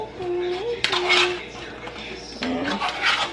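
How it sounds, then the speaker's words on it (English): A spoon scrapes and clinks against a cooking pot while pot roast seasoning of black pepper and salt is stirred, with close metallic rattles in short bursts and a voice speaking briefly over them. "Kind of stir it a little bit."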